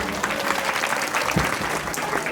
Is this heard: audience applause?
yes